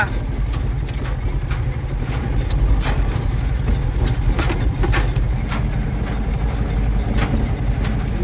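A vehicle creeps along in first gear over a rough road laid with thick stones, its engine rumbling low and steady while clicks and jolts break through.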